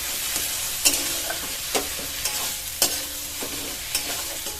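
Ground drumstick leaves fry in hot oil with fennel seeds, a soft steady sizzle broken by regular scraping strokes and taps of a spatula against the pan, close and without speech.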